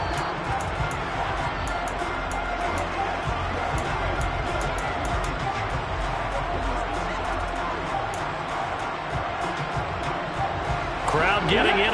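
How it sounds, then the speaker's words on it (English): Steady crowd roar fills a Giants NFL football stadium, a broad continuous hum of many voices that swells slightly near the end, with a commentator talking over it. "Crowd getting in it a bit already."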